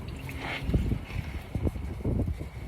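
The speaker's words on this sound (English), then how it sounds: "Kind of windy." Gusty wind buffets the microphone outdoors during an oil change on a 3.0 Duramax diesel, low rumbling bursts rising and falling over a few seconds with no talk.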